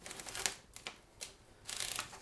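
A manual typewriter whose paper feed mechanism fails to catch gives faint, clustered mechanical clicks and rattles, with brief bursts of ratcheting and a longer clatter at the end.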